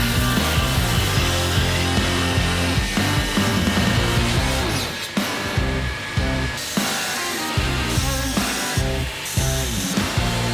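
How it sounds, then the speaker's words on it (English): Angle grinder grinding cold cuts and cracks out of a steel blade for a cane sword, a continuous loud abrasive whine with short pauses and bumps as the tool shifts against the metal. "I'm just looking for any cold cuts or cracks to grind them out"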